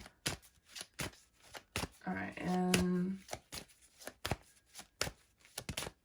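A deck of oracle cards is riffled and shuffled in quick bursts, crisp flutters up close, while a voice speaks briefly in between.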